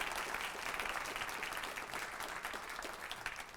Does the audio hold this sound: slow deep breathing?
no